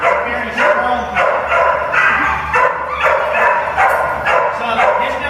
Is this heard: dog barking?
yes